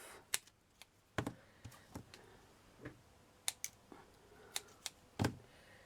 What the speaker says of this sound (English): And then snip all of that off.